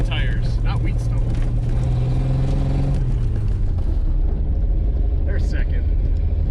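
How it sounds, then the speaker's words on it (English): A 1965 Chevrolet Bel Air, abandoned for 35 years and just revived, drives across a wheat-stubble field, its engine a loud steady rumble that shifts in tone midway as a voice talks over it. "We're motoring across the field here."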